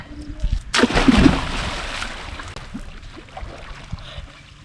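Water at Kanthale's Ginipitty Bridge near Trincomalee, where people are bathing, splashes loudly in a burst near the start, then keeps rushing and sloshing more softly, with faint voices in the background.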